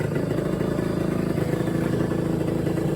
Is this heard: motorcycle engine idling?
yes